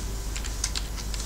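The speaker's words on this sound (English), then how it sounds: "then I go here and I just type" Quick keystrokes on a computer keyboard, a short run of crisp clicks typed at a steady pace, close and clear.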